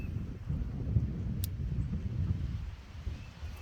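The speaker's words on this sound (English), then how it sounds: "Got some wind picking up today" Wind gusting over a freshly planted onion garden, a steady low rumbling buffet on the microphone with no voices.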